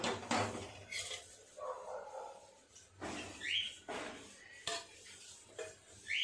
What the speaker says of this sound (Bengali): কড়াইটা বসিয়ে তেল দিয়ে দেব।